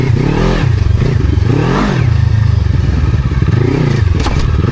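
A trail motorcycle revs with small throttle blips, the engine rising and falling in a loud, close rhythm with some clattering and scraping underneath.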